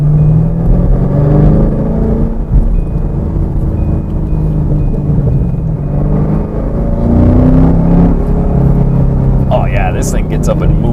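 A 2015 muscle car in competition mode accelerates hard. Its engine rumbles, then rises in pitch through repeated surging revs, close and loud, with a voice talking over it.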